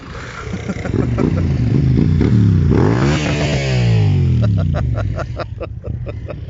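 Motorcycles from a local bike club ride past on a road on Kefalonia, engines swelling loud as they near and pass close by, then fading, with clattering mechanical noise and brief revving as the group goes by.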